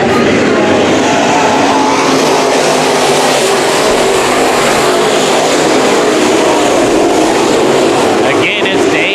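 IMCA modified race cars roar continuously at Bakersfield Speedway on a restart, a loud dense wall of engine noise filling the whole stretch without letup.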